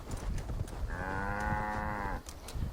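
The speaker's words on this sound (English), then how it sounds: "Moo to you too, cow." A single cow lets out one long, clear moo in the video game Assassin's Creed Valhalla, sounding fairly close over a soft rustling outdoor ambience.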